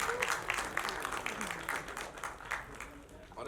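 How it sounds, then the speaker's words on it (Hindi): An audience at a film trailer launch claps and cheers in a steady, dense wash of applause lasting the whole stretch, with a loud voice calling out over the crowd. "जोरदार तालियां बजाओ"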